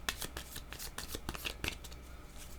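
Playing cards being shuffled and drawn during a card game, a quick series of close, crisp riffling snaps and flicks that continue steadily without talk.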